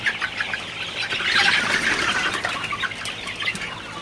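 Sonali super hybrid chickens, 45 days old, cluck and rustle together in a flock, with soft flapping; a steady dense chorus of poultry sounds with no one speaking.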